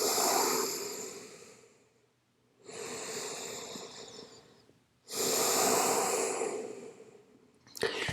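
Slow, deep breathing during a child's pose stretch, heard as long airy inhales and exhales in three drawn-out cycles with pauses between, close and fairly soft.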